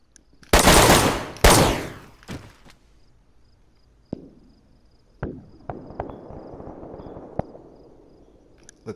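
Gunfire in the video game DayZ: two loud bursts early, followed by scattered single sharp shots with fading echoes and quieter stretches between, no talk.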